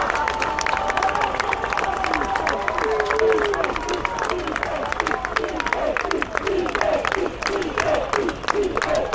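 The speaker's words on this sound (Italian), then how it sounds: "Fategli un applauso" Crowd applause and cheering at an outdoor political rally in Rome, dense continuous clapping from many people up close, with voices and shouts mixed in throughout.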